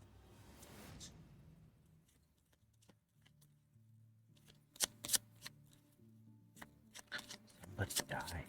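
Cards shuffle in a video game, with a brief riffle early on and then a run of sharp flicking snaps later, fairly faint, with soft background music underneath.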